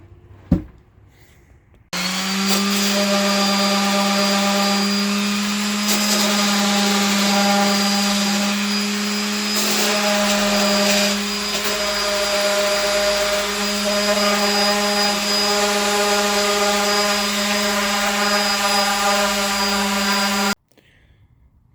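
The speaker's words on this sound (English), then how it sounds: "I'm just gonna clean it up a little bit using this Makita orbital sander" A Makita orbital sander runs steadily and loudly on a sailboat cabin galley, a continuous whining hum with strong tonal harmonics that holds for nearly twenty seconds before cutting off.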